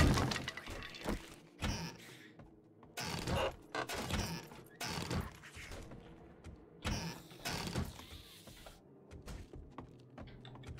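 Shotgun blasts in the zombie survival game 7 Days to Die blowing apart a block, repeated crunching, shattering impacts with crumbling debris, spaced irregularly over a rumbling game background, fairly quiet overall.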